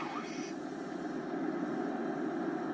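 Steady droning engine of an aircraft in a French-language flight video game, loud and continuous with a faint rise in pitch early on.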